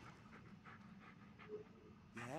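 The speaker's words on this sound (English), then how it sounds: "Yeah, good dog." A dog named Bullet pants in the Blair Witch video game, with quick, steady, close breaths continuing throughout and a brief whining tone at the end.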